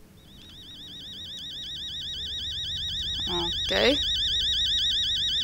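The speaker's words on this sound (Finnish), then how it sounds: "Okei, herätyskello." Alarm clock ringing in the video game Fears to Fathom: Home Alone, a continuous warbling electronic tone that holds steady throughout, with a person speaking briefly over it.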